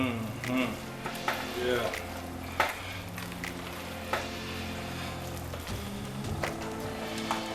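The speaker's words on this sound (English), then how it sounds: "Can't forget about that pepper. Boom. We're gonna stir that in." Food stirred in a pan with pepper in a cheesy mixture, soft sizzling and frying under scraping utensil strokes and occasional clinks, with brief murmured voices.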